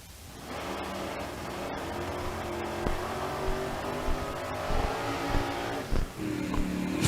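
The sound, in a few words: modified drag race cars revving and accelerating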